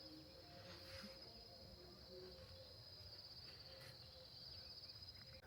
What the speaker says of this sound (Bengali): আপনারা এখানে শুনতে পারতেছেন পাখির অনেক সাউন্ড আছে, ঝিঝি পোকার সাউন্ড, নীরব পরিবেশ